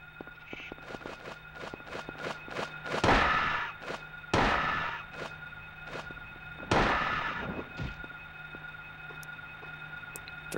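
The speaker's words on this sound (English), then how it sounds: "Three shots." Three heavy gunshots crack out in Silent Hill, each a loud booming blast spaced a couple of seconds apart, over a background of faint ticking and a low steady hum.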